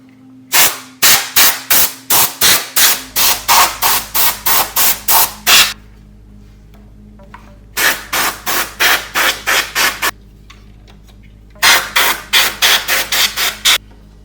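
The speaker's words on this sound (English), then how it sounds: "let me just give it a quick clean with the air gun. I'm just going to use regular old compressed air." Short bursts of compressed air from a handheld air gun blast across a cassette deck's mechanism, loud and hissing, in three quick rapid-fire groups of about a dozen puffs each with brief pauses between.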